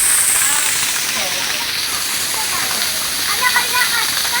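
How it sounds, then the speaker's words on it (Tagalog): Tumalistis Falls in Caibiran, Biliran, Leyte pours with a loud, steady broadband roar of rushing water, heard up close and continuous throughout. "dito tayo sa falls, Tumalistis Falls, tawagin na rito"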